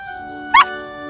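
A puppy gives a single short yelp over a faint tonal background hum, close and brief, in a toy-vehicle setting.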